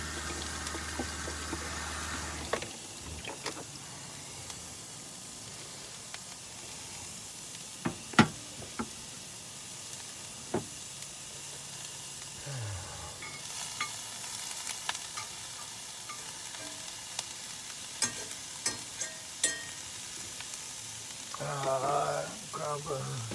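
Steak and onions sizzle steadily in a pan while a spatula knocks and scrapes now and then, sharp clicks rising over the constant frying hiss.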